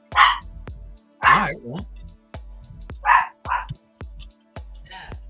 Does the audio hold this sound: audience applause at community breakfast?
no